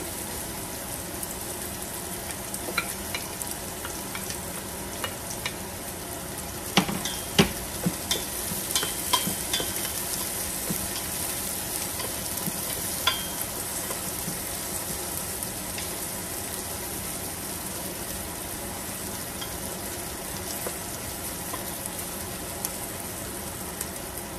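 Onion frying in a pan as salmon-head sinigang is prepared, a steady, fairly quiet sizzle with scattered crackles and occasional stirring scrapes, and no talking.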